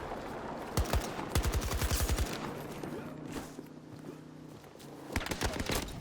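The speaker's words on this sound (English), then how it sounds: "I died to a sentry gun" Automated sentry gun fire in the Battlefield 2042 video game: several rapid bursts of loud gunfire, each a quick rattling string of shots, separated by pauses over a steady background of game noise.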